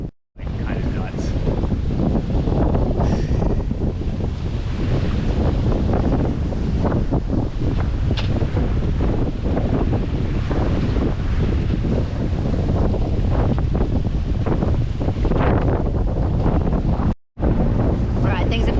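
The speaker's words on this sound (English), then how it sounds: "the gap wind continued to get stronger and stronger, making the boat difficult to control" Strong gap wind buffeting a small sailboat, a loud continuous roar of wind noise across the microphone with rushing water beneath, steady and close throughout, dropping out briefly near the end.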